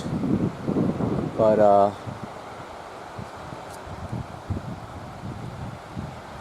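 Steady outdoor wind noise buffeting the microphone at Pictured Rocks in October, with a brief spoken word near the start and low rumbling gusts throughout.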